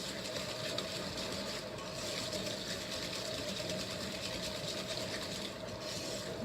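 Brown sugar, white sugar and melted butter whisked together in a bowl, a steady continuous scraping churn that stays loud and close throughout with no pauses or talking.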